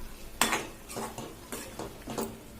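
Chopped ridge gourd being stirred in a kadhai with a spoon, four distinct scraping, clinking strokes at a steady pace, close and clear with no talking.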